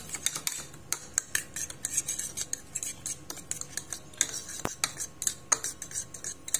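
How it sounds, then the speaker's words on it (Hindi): A spoon stirs a chicken leg marinade in a bowl, clinking and scraping against the sides in a fast, steady rhythm of close metallic taps, with no voice over it. "अब अच्छे से मिक्स कर लेंगे।"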